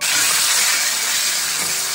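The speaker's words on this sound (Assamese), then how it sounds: "তেল গৰম হৈছে আৰু এতিয়া মাছখিনি ভাজি লওঁ" Fish fry in hot oil in a small room kitchen, giving a close, steady, unbroken sizzling hiss throughout.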